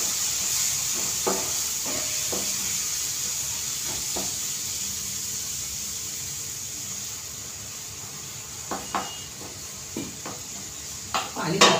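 Spices for pav bhaji fry in oil in a pan, a steady close hiss of sizzling with occasional spoon scrapes and stirring taps that grow livelier toward the end.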